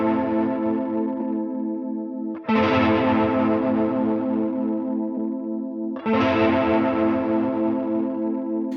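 An electric guitar runs through a Line 6 Helix chorus set to a saw-down modulation waveform, three strummed chords ringing out in turn with a shimmering, warbling sustain and no talking.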